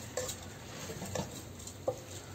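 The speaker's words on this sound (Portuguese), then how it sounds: "Aí a gente vai refogar esse arroz pra lá e pra cá." Half a kilo of rice is stirred and sautéed in a pan, three soft scraping strokes spaced about a second apart over a faint low sizzle, close and quiet.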